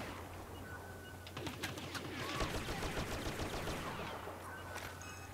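Hip-fired blaster shots in Star Wars Battlefront come as rapid bursts of sharp cracks, clustered in the middle and fading toward the end, fairly quiet with no talk.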